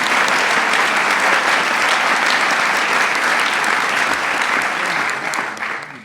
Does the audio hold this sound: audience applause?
yes